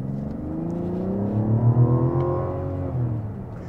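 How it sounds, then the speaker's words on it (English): A 2024 Mazda CX-90 Turbo S with its turbocharged inline-six accelerates hard in sport mode, engine pitch climbing steadily with faint turbo whoosh, heard from inside the cabin without talk. "And you can even hear the turbo noises."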